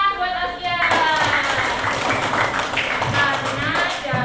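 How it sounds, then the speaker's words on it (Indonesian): A classroom of students claps for a classmate, a burst of many hands clapping close by, mixed with voices talking and chattering over it. "tepuk tangan buat Askia"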